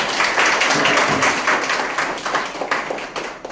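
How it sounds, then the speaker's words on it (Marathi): Audience at a seminar claps together in a dense, steady burst of applause, loud and close, fading slightly toward the end. "यांच्यासाठी जोरदार टाळ्या."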